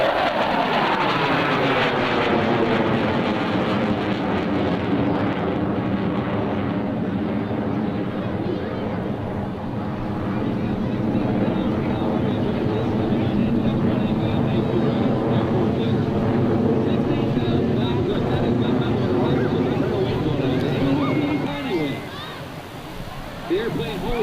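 An F-104 Starfighter jet roars loudly and steadily at the 2004 Atlantic City Airshow, its engine tone sweeping and shifting as it passes, with someone talking over it throughout.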